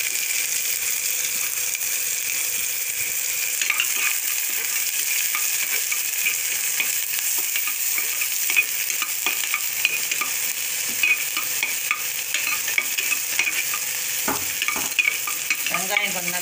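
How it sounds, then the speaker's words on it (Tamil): Onions with curry leaves sauté in a pan for green gram kurma, giving a loud, steady sizzle and hiss throughout with faint stirring scrapes, close up and without talk. "வெங்காயம் கொஞ்சம் நல்லா சிகப்பாக வரும், வருபடணும், வதங்கணும்."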